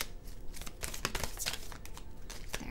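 Soft, quick riffling and flicking of a tarot card deck being shuffled by hand, a close, quiet series of papery bursts and taps with no talking.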